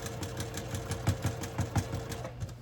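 A sewing machine runs a small stitch around fabric for a drawstring bag, a rapid even mechanical chatter with a steady rhythmic thump, close and moderately quiet.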